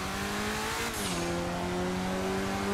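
A small car's engine revs steadily while driving in GTA, the tone dipping briefly as it shifts and then holding a loud, continuous drone with road noise.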